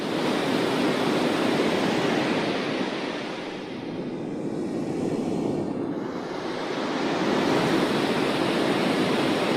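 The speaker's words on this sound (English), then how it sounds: "the way I like testing a polar pattern is with white noise" A steady wash of broadband white noise test signal, loud and continuous, dipping briefly in level midway before returning to full strength, played while testing a microphone's polar pattern.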